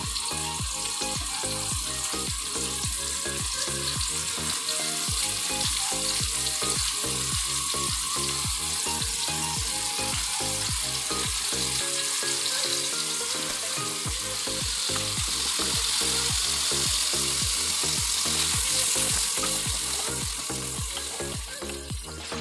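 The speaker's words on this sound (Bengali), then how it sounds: "এর মধ্যে আমি একে একে পনিরের টুকরোগুলোকে দিয়ে দেবো একটু লালচে ভাব হওয়ার" Paneer pieces frying in hot white oil, a steady dense sizzle running throughout, close and loud, with occasional soft knocks of a utensil against the pan.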